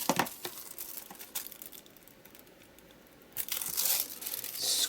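Craft foil being pressed and torn away for tiny doodle dots on an art journal page, a series of close crinkly tearing and crackling bursts, quieter in the middle and swelling again toward the end.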